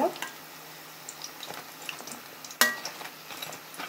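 Cauliflower pakoras sizzle steadily in hot oil as they are stirred and turned, with one sharp utensil clank against the pan partway through.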